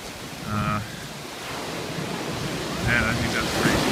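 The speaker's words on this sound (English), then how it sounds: "that just to see that wave crash up there is pretty cool" Ocean waves crash on a rocky shore near Black Sand Beach at Waianapanapa State Park in Hana, Maui, heard as a continuous roar of surf under wind noise, with some faint voices in the background.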